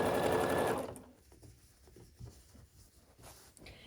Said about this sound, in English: Then we sew it on the other side